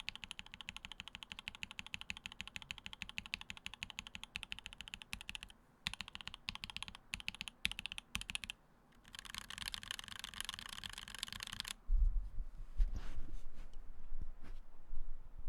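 Typing on a mechanical keyboard fitted with lubed and filmed Mode switches, a quiet, steady run of close, soft keystroke clicks with brief pauses and a few heavier thumps near the end.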